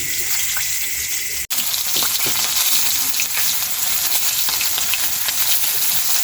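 Fish frying in a pan in a home kitchen, a loud, continuous hissing sizzle with a brief cut early on and small pops throughout.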